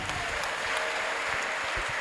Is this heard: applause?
yes